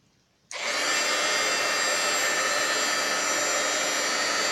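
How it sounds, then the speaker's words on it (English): A heat gun switches on abruptly and blows a loud, steady roar of hot air close by, shrinking a piece of shrink plastic for a DIY bee button; the hiss holds unbroken after the start. "pull over our heat gun"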